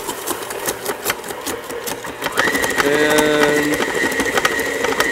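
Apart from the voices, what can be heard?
mixer straining while making ice cream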